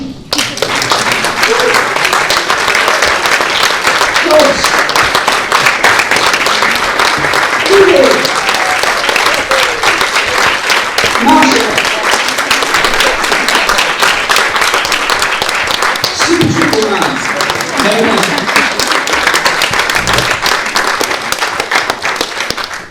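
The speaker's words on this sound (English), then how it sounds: "maybe a round of applause for each one of them" Audience applause at a TEDx event in Oldham, a long, loud and steady wash of clapping from a crowd, with occasional voices rising briefly through it.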